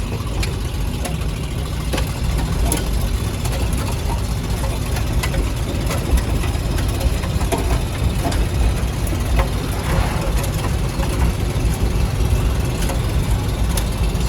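A restored junkyard camper's engine runs steadily while driving, a continuous low rumble with road noise lasting throughout, fairly loud and without speech.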